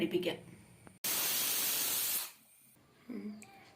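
A loud, steady burst of hissing steam from a pressure cooker whistle lasts about a second, set between stretches of quiet talk.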